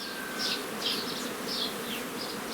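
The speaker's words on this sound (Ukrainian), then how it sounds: "Бжілки літають на поле" Honey bees buzz around hive frames near a beehive, a steady close drone with gentle swells in loudness and no voices.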